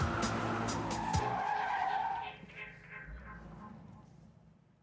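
An ordinary road car doing donuts in a confined space at a drift event, its tires skidding in a loud continuous squeal for about two seconds that then drops away into a fainter, fading skid and engine rumble.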